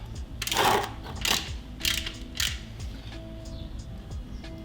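A 17mm socket ratchet works on a Royal Enfield Interceptor, giving several close mechanical clicks and ratcheting bursts, then quieter scattered clicks.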